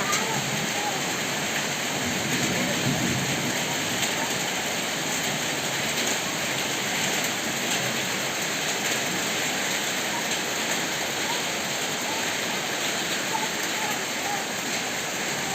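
Steady heavy rain pouring down, a dense continuous hiss that stays loud and even throughout, with voices faintly mixed in.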